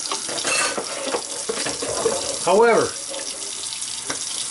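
Water from a tap sprays and splashes while a meat slicer is rinsed, a steady hiss and patter under a short spoken word, with a brief louder gush partway through.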